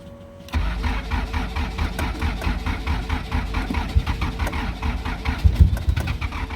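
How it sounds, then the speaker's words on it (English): A Chrysler Conquest engine fitted in a Fiero cranks and catches after a short quiet lead-in, then settles into a loud, steady run with an uneven pulsing rhythm close by. "let's see if this thing starts up first try"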